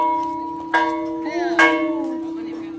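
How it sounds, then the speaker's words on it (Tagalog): A church bell near Chocolate Hills in Bohol rings with a sustained, resonant tone; two louder strikes land over the ongoing hum, with faint voices nearby. "Tumutunog ng kampana."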